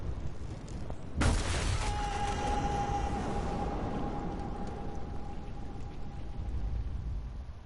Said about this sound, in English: I survived, and I thought I'd heard gunshots.